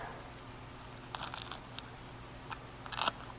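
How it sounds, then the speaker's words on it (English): Someone bites into a fried yellow squash fritter, giving a few faint, crisp crunches spread over a few seconds, close but quiet against a low background hiss, with no talk. "Did y'all hear that crunch?"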